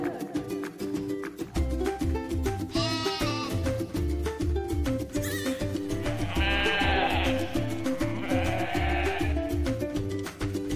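Goat bleating, a few wavering cries heard over loud children's alphabet song music with a steady beat.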